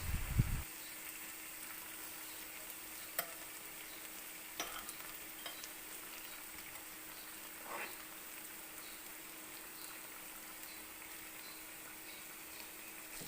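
Egg fried rice with oyster sauce is sautéed in a pan, producing a faint, distant-sounding sizzle with a few sharp spatula clicks scattered through an otherwise quiet stretch.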